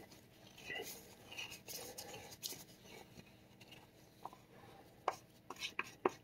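A spatula scrapes leftover dental stone plaster out of a mixing bowl in short, soft, gritty strokes, quiet and close, with a few sharper clicks near the end.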